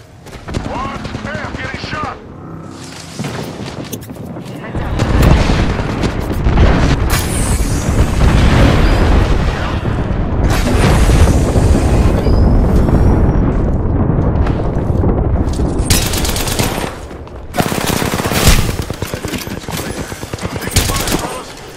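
Gunfire in the online shooter Apex Legends, with loud bursts of automatic fire, single booming shots and explosive impacts nearly continuous for long stretches, broken by brief quieter gaps, with game audio layered throughout.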